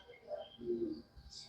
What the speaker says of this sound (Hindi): यहाँ काफी कबूतर दाना चुगते हैं, लोग यहाँ पर दाना गिरा जाते हैं।